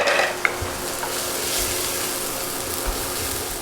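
Meatballs sizzle steadily while frying in a pan, a close, continuous hiss with a faint clink near the start and no voices.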